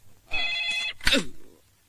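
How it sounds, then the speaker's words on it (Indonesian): A telephone bell rings in a comedy sketch, a bright electronic ringing tone with steady harmonic bursts lasting about half a second, followed by a sharp second ring, fairly loud and close with no talk. "Itu juga telepon berderang-derung, nggak tahu diri, nggak tahu orang sakit apa"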